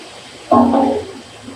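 Liquid ethanol extraction poured into a container during winterization, a short close splashing gush lasting about half a second before tapering off.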